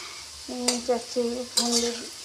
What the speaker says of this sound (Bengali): এখন আলু ভাজছি, ফোড়ন দিয়েছি, কালো জিরে ফোড়ন দিয়েছি